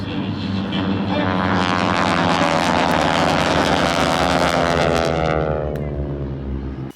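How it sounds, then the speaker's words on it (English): Big airplanes roar loudly at close range, packed into a small space at an air show near Clow International, Bolingbrook, Illinois; a steady, sustained engine drone with a rising whine that holds throughout before easing slightly at the end. "I call it big airplanes, lots of noise in a very small space"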